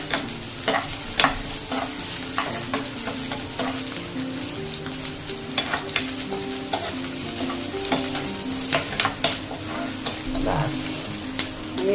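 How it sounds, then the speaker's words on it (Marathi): Ginger masala sautéing in a pan gives a continuous close sizzle, broken by frequent sharp scrapes and taps of a spatula as it is stirred, with only faint background noise. "परतू द्या चांगला परतू द्या"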